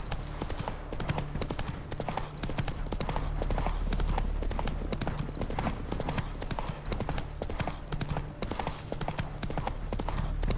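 Horse hooves clip-clop in a steady, continuous rhythm while riding through The Witcher 3, close and fairly loud, with a faint whinny and no talking.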